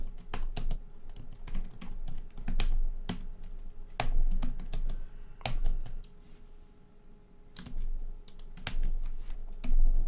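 Steady typing on a computer keyboard, close and clear, with rapid key clicks in bursts and short pauses, no voices.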